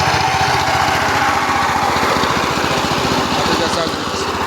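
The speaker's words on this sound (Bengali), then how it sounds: "এই যে আমাদের চাষের মেশিন, আমার ভাতিজা চাষ দিচ্ছে" Power tiller ploughing a field to prepare soil for planting grass: a loud, steady, close engine drone with a fast rhythmic chug throughout.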